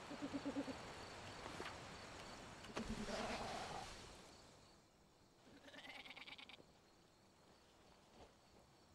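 Goat bleats from the horror video game Mundaun sound in a few wavering calls, moderately near, over quiet ambient game noise with faint insect-like chirring.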